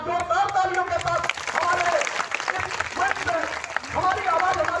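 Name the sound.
loud crowd applause at a rally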